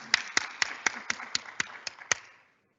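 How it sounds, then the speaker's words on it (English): Nine sharp hand claps in a steady rhythm, close and clear, from a single person rather than a crowd at a diploma ceremony, ending abruptly. "now I'm going to put the mic down so I can actually applaud"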